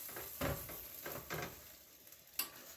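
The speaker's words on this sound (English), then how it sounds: "Stir all of this so the chickpeas can get all married in here." A spoon stirs chickpeas into beef and vegetables in a pot, making soft scraping strokes in an irregular rhythm with a light clink near the end, quiet and close with no talk.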